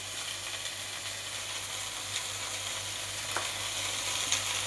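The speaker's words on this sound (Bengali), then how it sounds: "ততক্ষণে আবার সবজিগুলো একটু ভালো করে নেড়ে নিচ্ছি।" Mixed vegetables fry in a pan, giving a soft, continuous sizzle with a few faint stirring scrapes and no voices.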